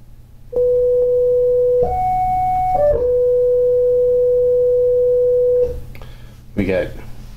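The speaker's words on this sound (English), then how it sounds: "we get some really cool synthesizer tones" A Subdecay Vitruvian Mod pedal in tracking mode gives steady, pure synthesizer tones that hold as sustained notes, stepping up in pitch briefly before settling back, with a faint hum beneath and a soft noise at the end.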